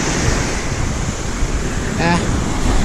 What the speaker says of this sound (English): The tide's really swooping up here and splashing me real good.